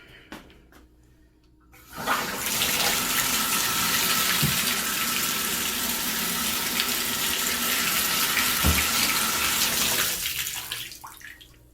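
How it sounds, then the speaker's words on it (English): Water gushes through a newly soldered Moen Posi-Temp shower valve on copper pipe, a loud steady hiss-and-splash rush lasting about eight seconds after a click, then fading as it shuts off, with no talk. "Let's try it out."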